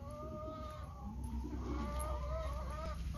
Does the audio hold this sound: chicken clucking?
yes